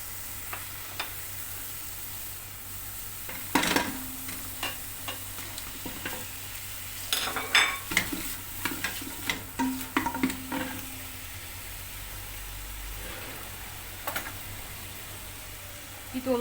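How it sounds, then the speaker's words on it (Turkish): Peppers fry with tomato paste in butter and onions for a Turkish vegetable chickpea dish, a steady quiet sizzle broken by sharp spoon scrapes and clanks against the pan as it is stirred. "Şimdi ben bunun içerisine biberlerini de biraz kavurayım."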